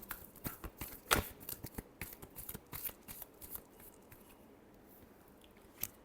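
Tarot cards being shuffled by hand make a quiet run of crisp, irregular riffling snaps and flutters, close by, with no voice.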